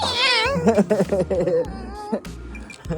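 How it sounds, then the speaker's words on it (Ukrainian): A cat meows in a few short, wavering calls up close, with some soft human vocal sounds mixed in. "Кіт муркає."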